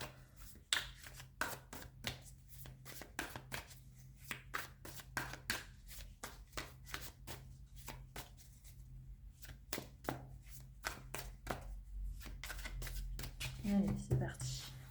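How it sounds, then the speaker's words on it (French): Tarot cards are shuffled by hand ahead of a nine-card spread, a quick run of crisp riffling flutters and taps in irregular bursts, close and fairly quiet, with a low steady hum behind. "Je vais faire un tirage à 9 cartes."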